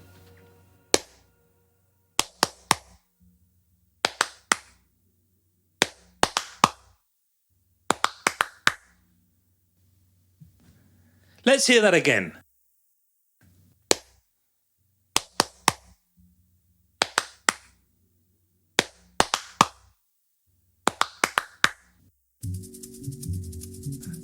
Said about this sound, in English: the sound of one person clapping